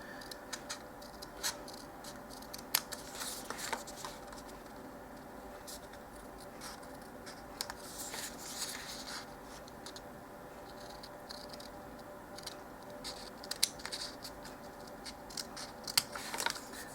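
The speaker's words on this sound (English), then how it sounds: "So I'm going to cut them all out to that point." Scissors cut out paper card pieces for vintage multiplication cards, a quiet close series of irregular snips and paper rustles spread across the span, with no talk.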